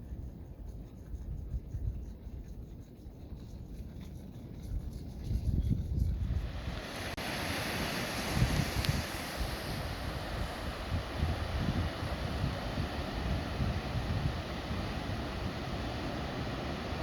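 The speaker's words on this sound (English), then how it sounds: "You can hear the waves coming in" Ocean waves break on a beach below a cliff in California, a continuous broad wash of surf mixed with wind noise on the microphone that grows louder and fuller partway through.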